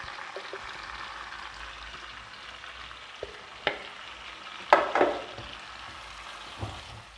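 A masala paste of garlic, onion, ginger, chillies and tomato goes into chicken karahi with a soft ongoing sizzle, punctuated by a few sharp clinks and scraping stirs of a utensil against the pan.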